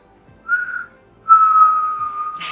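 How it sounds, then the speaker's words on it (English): A person whistles two clear, steady tones, a short one followed by a longer sustained note, close and fairly loud. "Then can I whistle?"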